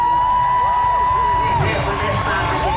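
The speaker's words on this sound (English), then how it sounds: "Please clap for this family." A protest crowd rallying for a family cheers and whoops loudly, with sweeping whistle-like shouts rising over a constant roar of voices.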